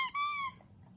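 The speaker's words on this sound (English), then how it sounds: "And we did buy her a little shit squeaky toy." A small squeaky dog toy gives one bright, close squeak after a short initial chirp, then falls silent, heard alone without talking.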